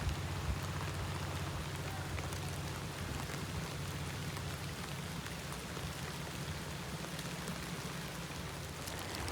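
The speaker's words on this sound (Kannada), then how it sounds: "ಇವಾಗ ನೋಡಿ ಪಟ್ ಅಂತ ಮಳೆ ಬಂತು" Sudden rain after hot sunshine pours down steadily as a dense, even hiss of drops striking surfaces nearby, with a low continuous hum beneath and no pause throughout.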